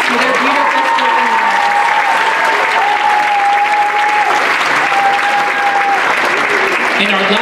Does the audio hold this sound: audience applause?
yes